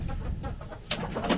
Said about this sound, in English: The chickens can come out.